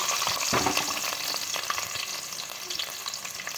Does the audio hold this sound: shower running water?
no